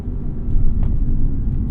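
A deep, rumbling 2016 Lexus GS F V8 engine drones close by, swelling briefly in the middle as the revs shift on a downshift, a low throaty roar throughout.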